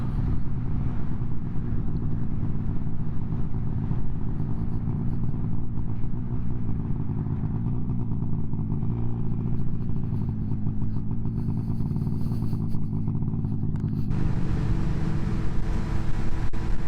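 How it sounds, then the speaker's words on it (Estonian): A motorcycle rumbles loudly and steadily for the whole stretch during a spring motorcycle ride in Pärnumaa, Estonia, its engine tone shifting near the end, with no talking. "No natuke kiirem mootorratas oli praegu."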